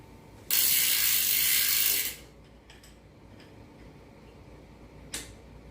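A ratchet wrench loosens a bicycle pedal with one loud, fast run of clicks lasting about a second and a half, then quiet with faint ticks and a short final click.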